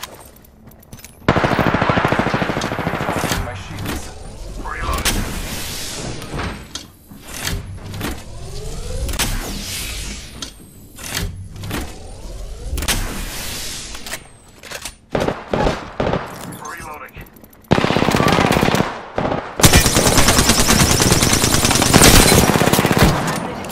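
Gunfire from the Apex Legends battle royale game, with dense bursts of automatic fire and sharp shots in loud, choppy volleys, plus a bright, harsh rattle near the end.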